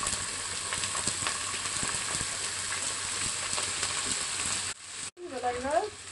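Rice fries in hot oil with a dense, crackling sizzle that stops suddenly near the end, followed by a short voice.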